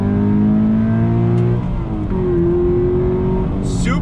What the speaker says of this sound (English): But let's do a little acceleration.